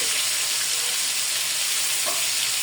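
Spinach and a few shrimp frying in a pan give a loud, constant close sizzle with a brief soft stir near the end and no voices.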